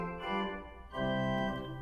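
Quintflöte stop on a hybrid pipe-and-digital church organ, sounding a short bright flute-like melody in two sustained phrases with a brief dip between, heard alone.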